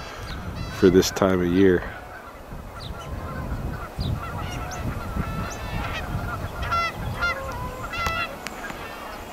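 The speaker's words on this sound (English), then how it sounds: "This is really not typical goose behavior" Canada geese honk loudly at a pond beside golf greens, a burst of close, harsh calls early on, then scattered honks from other birds near and far over steady outdoor ambience while someone talks.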